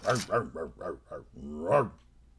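A voice imitates a dog, making a quick run of four or five yelping, bark-like syllables and then a longer whining howl, close and clear with nothing behind it.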